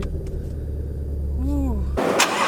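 Someone talks over a low idling rumble, then a Shelby GT350 sports car engine suddenly fires up with a loud, brief roar close by.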